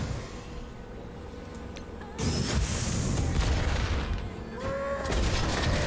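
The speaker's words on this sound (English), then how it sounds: "This Crossbones explosion's gonna really suck" A Crossbones explosion in the Marvel Strike Force mobile game bursts in with a heavy boom and crackling, layered effects that stay loud, with sharp whooshing accents near the end and no talking.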